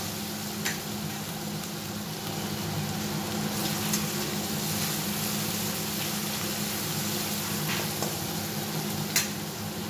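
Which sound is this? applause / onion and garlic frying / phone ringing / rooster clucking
onion and garlic frying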